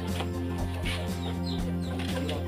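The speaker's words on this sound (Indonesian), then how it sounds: "Ini berisik sama ayam nih." Chickens cluck and chatter nearby in a steady, busy din, with soft short calls overlapping against a constant low hum.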